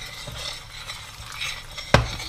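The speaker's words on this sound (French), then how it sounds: "Voilà, je touille." A utensil scrapes and stirs through caramel with butter and popcorn in a pan, a soft, continuous rasping close at hand, ending with a sharp clank against the pan.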